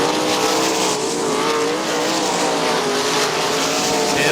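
Sprint cars racing side by side on an oval speedway, engines screaming loud and continuous as the cars pass, with a rising and falling whine over a dense roar of the race.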